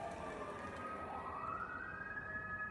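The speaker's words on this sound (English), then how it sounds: "I don't usually hear ambulances like that, or those kinds of sirens in that capacity" A distant ambulance siren wails and rises in pitch over faint background traffic noise, continuous and fairly quiet.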